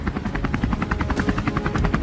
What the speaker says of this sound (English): The sound of helicopter blades cuts through the air